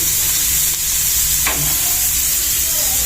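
Onions frying in a pan at the start of a baila fish curry, a dense, steady sizzle close up and loud throughout, with a brief soft stirring scrape partway through.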